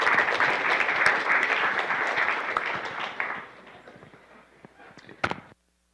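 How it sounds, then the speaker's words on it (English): Loud audience applause at a hackathon kickoff fills the first few seconds, then thins out and fades, ending with a couple of sharp knocks. "Round of applause."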